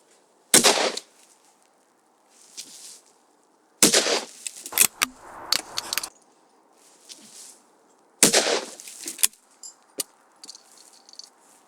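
A Yildiz 12ga Sporter shotgun fires Rio 28 gram cartridges outdoors, three sharp loud reports spaced a few seconds apart, each followed by quieter rattles and clatter of handling.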